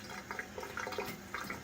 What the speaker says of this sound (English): There, just wash it in the water.